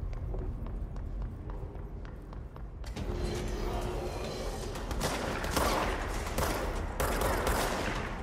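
Gunfire from a weapon in a video game, a dense, continuous rattle of shots that grows louder partway through and keeps going under a busy mix of game noise.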